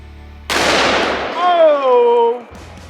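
A single loud gunshot from a 240 grain jacketed soft point round fired at a flange on a John Deere 111 mower part, a sharp close blast followed by a voice exclaiming.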